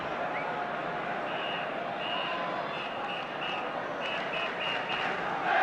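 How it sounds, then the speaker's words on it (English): Whistling from a spectator in a football crowd at the 1975 League Cup Final, Aston Villa against Norwich City, heard as a series of short, shrill repeated tones over the steady roar of the crowd. "there's a phantom whistler in the crowd"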